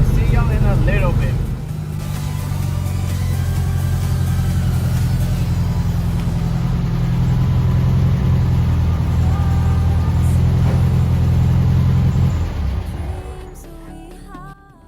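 A 1971 Volkswagen Super Beetle's air-cooled engine drones steadily from inside the car while driving, a loud low rumble that holds for about ten seconds before easing off, with faint road noise and no talk.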